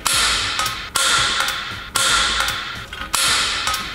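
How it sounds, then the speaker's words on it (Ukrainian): A Dnipro-M automatic center punch snapping four times at a steady pace, about one loud, sharp metallic crack each second, each followed by a short ringing decay, close up with no talk. "І прямо зараз великий, детальний та обширний огляд кернеру в роботі."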